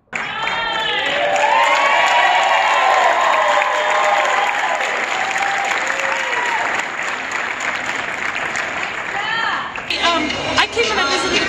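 An audience fills a school venue with sustained loud applause and cheering after a performance, with shouts and whoops over the clapping for most of the clip before it dies into scattered voices.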